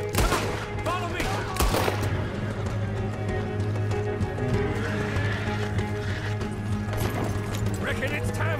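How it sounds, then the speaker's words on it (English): Horses in the Red Dead Redemption 2 video game whinny and clop steadily amid a dense, busy game soundscape with a low engine-like drone, occasional sharp bangs and background voices. "You see the horses?"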